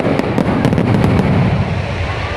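Fireworks burst at a festival in Hue, a loud dense roar of crackling explosions with sharp rapid pops layered over a continuous rumbling wash.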